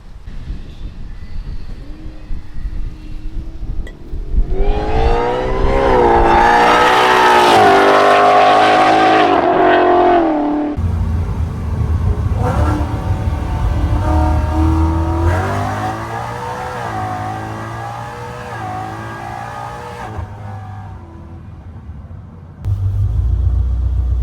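A loud Whipple-supercharged S550 Mustang engine revs hard on a dyno, climbing to a high scream, then drops and surges again with deep, rumbling roars and no talking.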